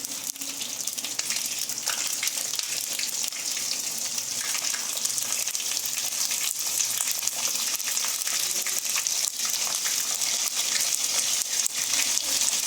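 Green chilli and ginger sizzling in a hot pan for a chicken gravy, a steady, dense hiss of frying that holds evenly throughout with no talking.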